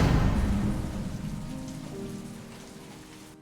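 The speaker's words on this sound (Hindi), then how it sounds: "बारिश हो रही है।" Steady rain falls on a surface in an animated scene, loud at first and gradually fading, with a low rumble of distant thunder underneath and no voices.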